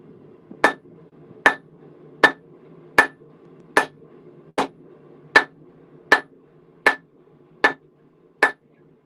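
Hammer strikes forging a railroad spike into a knife on the round side of an anvil, eleven sharp, evenly spaced ringing blows close by, with a faint steady hum beneath.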